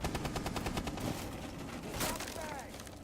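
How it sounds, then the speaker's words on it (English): Rapid automatic gunfire rattles in fast bursts in a tactical shooter video game as a player shoots through a wall at the Jaeger operator, with a heavier shot near the middle and a voice over it. "could actually go for a few wall bangs as he does try to go for that kill onto the Jaeger"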